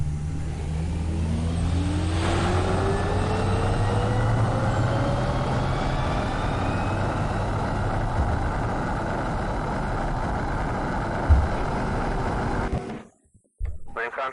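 A fighter jet takes off in a flight simulator game, with a loud, steady engine roar and a rising whine that runs unbroken before cutting off abruptly near the end.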